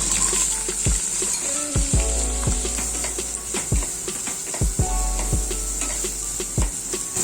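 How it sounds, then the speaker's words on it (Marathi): Green chilies and onion hit hot oil in a kadhai with a constant loud hissing sizzle, while a spoon knocks and scrapes against the pan in irregular thumps, close up, no talking. "तेल तापलंय, मिरची टाकते, कांदा टाकते"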